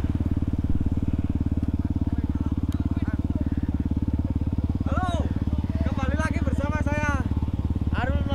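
Several supermoto motorcycles in a riding group idle and rumble loudly and steadily throughout, with occasional revving and people talking over the engines.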